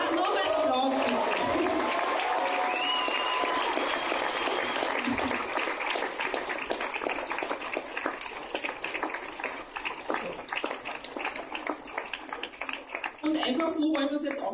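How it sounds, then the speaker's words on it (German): Sustained applause from a ballroom audience at a Red Cross charity ball, dense steady clapping filling the room for about thirteen seconds before thinning out, with some voices mixed in. "Dann noch ein Applaus bitte."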